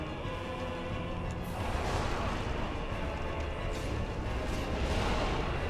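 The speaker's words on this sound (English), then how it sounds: "Don't do the explosion wave." The Four Kings' explosion wave attack in Dark Souls produces a heavy, rumbling roar of blasts that swells and rolls on continuously, loud and dense with crackling booms and no voices over it.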